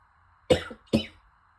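Two quick, dry coughs from a person, close and clear, come in succession against a quiet background.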